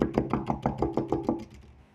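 A run of about eight sharp knocks on a window at night, evenly spaced and close, fading in strength toward the end with no voices.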